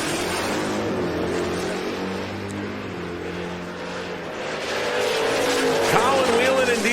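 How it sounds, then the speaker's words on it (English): A 1999 and a 1995 Mustang race down a drag strip, the engines roaring steadily with some tire squeal and rising toward the end, while an announcer talks over the noise. "Here comes our next pair of cars."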